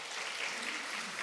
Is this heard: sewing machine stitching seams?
no